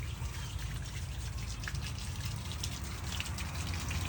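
An indoor fountain running inside a green, plant-filled restaurant gives a continuous, even splashing and gushing wash of falling water, steady and close, with no voices over it.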